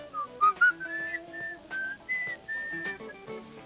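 A person whistles a short, halting melody of clear, bright notes, alone and close, with small pauses between phrases.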